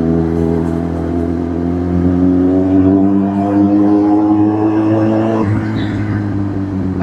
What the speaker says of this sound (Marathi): असा आवाज, माझी फेवरेट गाडी आहे यार खरंच